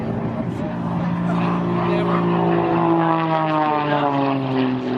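Extra 300 aerobatic airplane performing at the Wings over Houston airshow, its propeller engine droning steadily with strong harmonic tones that slowly shift in pitch as it maneuvers, loud and continuous, with a voice faintly audible underneath.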